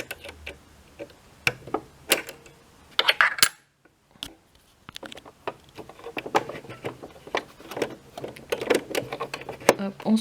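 A presser foot screw is unscrewed on a sewing machine, giving small, sharp metallic clicks and ticks scattered between bursts of nearby talking.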